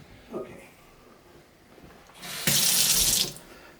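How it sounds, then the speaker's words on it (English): A Delta Brizo kitchen faucet opens with a short, loud gush of running water into the sink after quiet handling sounds, then shuts off again within about a second. "so when the water starts flowing it doesn't pound into the valve"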